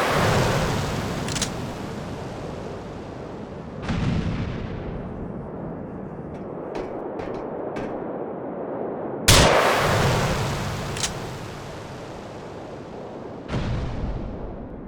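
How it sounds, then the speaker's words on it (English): Explosions in GTA IV: several heavy booms spaced a few seconds apart, each with a broad, echoing tail that rolls off into the distance, with a few sharper pops in between. No talking. "Explosions can also create echo towards distant effects."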